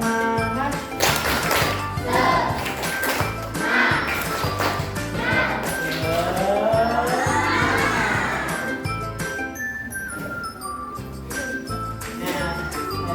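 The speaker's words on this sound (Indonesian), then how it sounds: "Tepuk semangat." A classroom of schoolchildren doing a rhythmic spirit clap, with loud patterned group clapping and excited voices chanting and shouting together, plus bright jingling tones layered over the beat.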